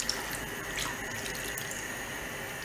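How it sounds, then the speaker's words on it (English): Water runs steadily from a tap into a pot of peanut soup holding peanut, meat, fish and turkey wings, a continuous close pouring splash with no talk. "I'll add a little bit of water"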